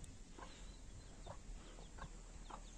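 Outdoors, a hen with her chick gives soft, evenly spaced clucks, four or five short calls over a low, steady background hum.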